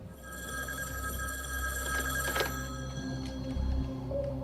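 A telephone rings steadily with a bright, electronic bell tone that keeps going for several seconds amid low background noise.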